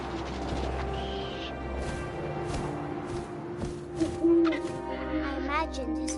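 Owl hoots in the video game What Remains of Edith Finch, moderate and mid-distance over a steady wind-like ambient bed, with a brief louder swell near the end.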